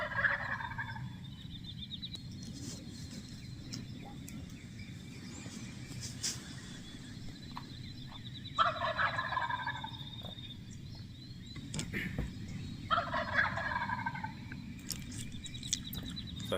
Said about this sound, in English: So it's actually 3 toms together. See, there's the third. The third only gobbles every once in a while.